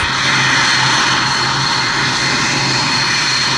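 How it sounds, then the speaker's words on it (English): Loud, continuous roar of an Indian Air Force Mirage 2000 jet engine at RAF Waddington during the Cobra Warrior exercise, a steady broadband rush with a low hum underneath and no talk. "It's RAF Waddington, Cobra Warrior, with the Indian Air Force Mirage 2000."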